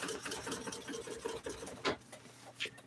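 A sewing machine top-stitching car seat upholstery for a 1955 Chevy, running in a quick, steady patter of stitches before stopping, with a few faint knocks afterward, close and quiet.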